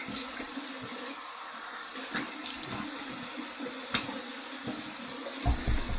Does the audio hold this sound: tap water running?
yes